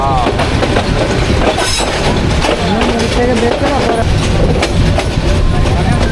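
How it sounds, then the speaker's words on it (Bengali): The Bijoy Express train runs on rails through Gouripur railway station on the Bhairab Bazar to Mymensingh line, with a loud, continuous rumble and rhythmic clickety-clack of the wheels, and someone talks over it. "ট্রেন একদম রাইট টাইমেই আছে আমরা এখন পার করছি গৌরীপুর রেলওয়ে স্টেশন"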